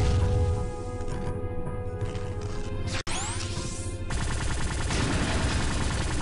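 Enemy gunfire in the Star Trek Elite Force shooter game, a dense continuous barrage of energy-weapon fire over a steady game soundtrack, with one abrupt cut midway before the shooting resumes loudly.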